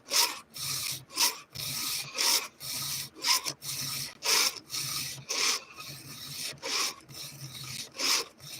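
Steady back-and-forth rasping of a file sharpening metal saw teeth, strokes repeating in a quick uneven rhythm, close and harsh, with no talking.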